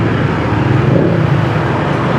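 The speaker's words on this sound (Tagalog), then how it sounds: "Traffic talaga to rito." Road traffic rumbles as a dense, continuous wash of car and vehicle noise, loud and close, with no distinct horns or speech standing out.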